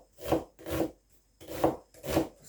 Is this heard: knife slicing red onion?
yes